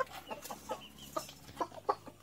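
Black Australorp chickens on a small free-range farm, clucking in a string of short, soft, uneven notes close by, with no talking.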